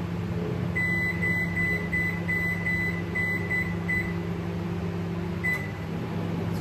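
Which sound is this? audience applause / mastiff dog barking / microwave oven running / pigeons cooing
microwave oven running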